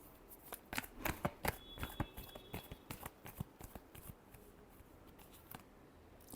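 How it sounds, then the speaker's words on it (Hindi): Tarot cards riffle and slap together in a quiet room, a quick run of crisp papery bursts for a few seconds that tapers off near the end. "last shuffle"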